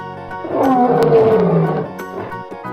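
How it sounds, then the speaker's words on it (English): A lion gives one long, loud, close roar that swells and then slowly fades, heard alone. "Lion."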